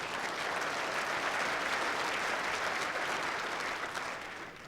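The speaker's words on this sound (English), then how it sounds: "The crowd are certainly getting behind him, giving him a bit of support when he plays a good bowl." A crowd applauds a good bowl at the 2016 World Bowls Championship, producing dense, steady clapping for several seconds that fades slightly at the end.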